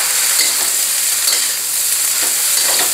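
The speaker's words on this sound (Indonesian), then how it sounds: "Yang terakhir masukkan daun bawangnya. Sebentar saja ya ini aduknya." Hong Kong-style beef fried rice with spring onions being stirred in a hot pan, giving a loud, continuous close sizzle with brief scraping strokes from the spatula.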